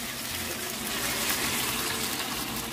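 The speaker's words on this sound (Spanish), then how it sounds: "ahora sí le agrego la salsita" Blended sauce poured into a hot cooking pan of home-cooked food, a steady close gushing splash that swells slightly midway and runs on without talk.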